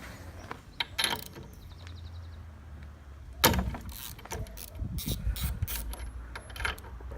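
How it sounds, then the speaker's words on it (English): A 21mm socket wrench works loose the spark plugs on an outboard motor, giving quiet, close metallic ratcheting clicks in short irregular bursts with pauses between. "So take these spark plugs out. It's a 21mm socket."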